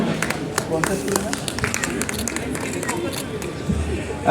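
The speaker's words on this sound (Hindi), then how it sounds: "जोरदार तालियां हो जाएं।" Applause from an audience at a voters' day programme held at an election commission office, a dense steady patter of many hands that runs the whole time, mixed with crowd chatter and a voice on a loudspeaker.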